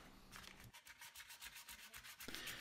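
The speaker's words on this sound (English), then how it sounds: "We'll let Mike help us out with a little more sanding on the inside" Repeated rasping strokes of sandpaper on the inside of a wooden picture frame shadow box in a woodshop, a steady back-and-forth rhythm, close and moderately loud, with no talking.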